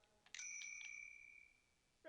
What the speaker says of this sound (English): then it does like a bell sound